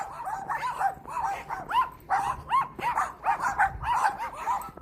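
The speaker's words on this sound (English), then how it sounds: "Sounds like puppies. Sounds like they're in this garage." Several small puppies in a garage yip, bark and whimper in a rapid, overlapping chorus, close and loud, with no speech over them.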